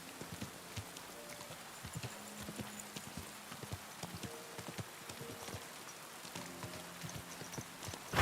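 Horse hooves clip-clop at a steady walking rhythm in the medieval Bohemian setting of the video game Kingdom Come: Deliverance 2, fairly close and moderate in level, with a soft rain-like patter around them.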